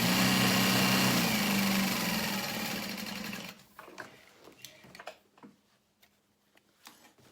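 A sewing machine stitches two parallel lines on a tote bag, running in a loud continuous whir for about three seconds before stopping, followed by scattered quieter clicks and handling sounds nearby.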